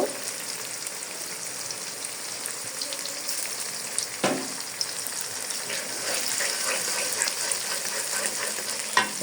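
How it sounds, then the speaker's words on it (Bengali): Three eggs fry in a pan with tomato, a steady close sizzle and crackle with occasional spatula scrapes and one sharp knock partway through, no voices present. "সুন্দর করে আমি ডিমটাকে ভেজে নিব ডিমটাকে আমি যে ভেজে নিয়েছি আরও ভেজে নিব ভালো করে"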